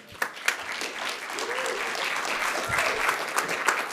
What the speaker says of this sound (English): Another round of applause for Amanda Trapp.